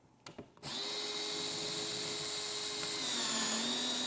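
A power drill whines steadily as it drives a screw tightening an in-wall speaker mount for a Focal 1000 IWLCR Utopia, starting after a few short taps, its pitch dropping slightly as the load increases near the end.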